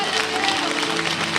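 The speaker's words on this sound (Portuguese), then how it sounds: "Uma salva de palmas ao Senhor." Applause rises in a church congregation after a baptism prayer, dense steady clapping mixed with voices and a sustained musical tone.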